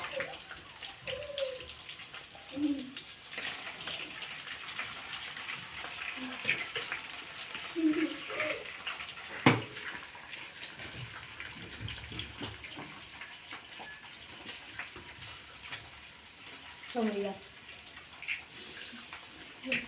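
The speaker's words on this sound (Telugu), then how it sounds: "హ్యాండ్ వాష్ చేసుకోవాలి." Tap water runs steadily while hands are washed at a kitchen sink, with a faint splashing hiss broken by a few clinks and knocks, and brief voices in the background.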